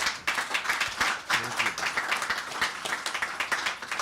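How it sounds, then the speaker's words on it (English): Attendees at a corporate regulatory strategy launch event give a round of applause, uneven clapping from a modest crowd, fairly faint and choppy, with brief surges and dips. "So may we please give the CC a round of applause again."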